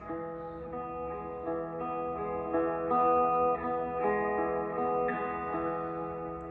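A slow, sustained guitar riff, notes ringing and changing one after another at an unhurried pace, fairly quiet with no voices.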